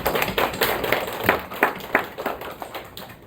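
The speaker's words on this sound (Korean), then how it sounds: "박수 한번 쳐주십시오" A congregation in a church claps in a loose, uneven patter of separate hand claps, fairly close and spread across the room, with no talk over it.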